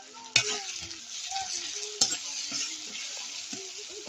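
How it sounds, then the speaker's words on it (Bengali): Onions fry until reddish in a pan over a stove, a bright continuous sizzle up close, punctuated by two sharp clanks of a utensil and soft stirring scrapes, with no one speaking. "পেঁয়াজগুলো লাল লাল করে ভেজে নিচ্ছি।"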